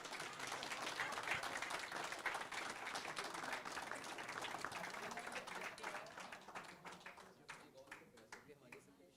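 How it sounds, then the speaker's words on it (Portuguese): Sustained applause from a sizable crowd, dense and steady, tapering off toward the end with a few scattered claps. "eu peço então uma salva de palmas"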